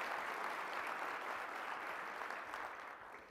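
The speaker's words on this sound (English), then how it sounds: "please give them a warm round of applause" Steady, dense applause from an audience at a business talk, with a broad wash of clapping held evenly for about three seconds and easing off slightly at the end; the crowd sounds fairly distant and no voices come through.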